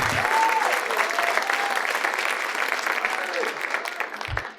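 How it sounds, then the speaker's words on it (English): A comedy club audience on a Saturday late show gives a continuous, fairly loud round of applause for a comedian, dense clapping filling the room throughout with faint crowd noise underneath. "Give him a round of applause."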